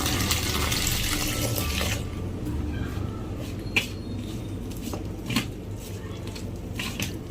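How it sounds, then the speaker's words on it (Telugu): Water pours into pazhampori batter for about two seconds, then stops, leaving a quieter room with a few light clinks and soft handling sounds. "ఇంకా వాటర్ వేసుకోవాలి"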